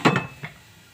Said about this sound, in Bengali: এটাকে আমি এখন ঢাকনাটা ঢেকে দিব